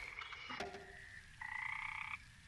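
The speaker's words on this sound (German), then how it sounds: "Die Frösche? Was sagen die uns jetzt?" Frogs croaking in the point-and-click adventure game Memoranda, a few faint, tonal croaks repeating in short bursts against a quiet background, with no talking.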